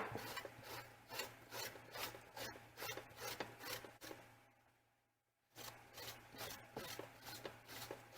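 Vegetables for kraut are rubbed over a grater in quiet, rhythmic rasping strokes at about two per second, with a short pause partway before the steady scraping resumes.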